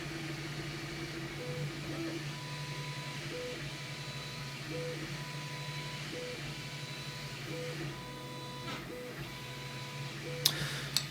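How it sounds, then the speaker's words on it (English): A 3D printer hums steadily while printing the top of a webcam housing, its stepper motors giving repeated short tonal whines at a regular pace, faint and close, with a few small clicks near the end. "that is a printer in action"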